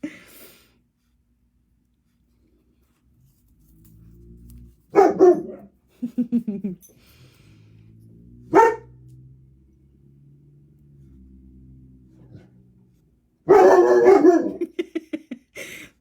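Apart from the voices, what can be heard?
dogs barking and howling at mail carrier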